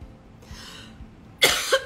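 A single close cough with a short rough throat-clearing tail, after a quiet stretch of faint breathing.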